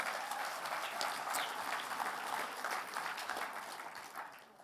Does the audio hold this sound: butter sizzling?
no